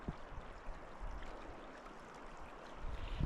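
Cherry Creek in the Gila National Forest, near a hot springs campground on a rainy morning: a steady, soft rush of flowing water, faint and continuous, with no voices.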